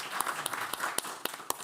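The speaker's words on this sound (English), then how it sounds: "let's just start with clapping" An audience at a talk about the sea claps in a brief burst of applause, with a handful of distinct sharp claps standing out over a soft spread of hand-clapping in a room.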